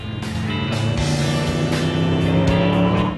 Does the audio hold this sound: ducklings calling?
no